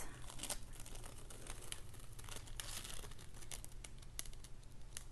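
Paper peeled off adhesive backing from scrap card stock, a steady crinkling and tearing rustle close by that runs continuously without speech.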